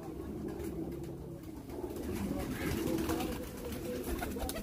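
Low, muffled cooing of a domestic pigeon runs steadily through the clip under a busy background murmur, soft and somewhat distant.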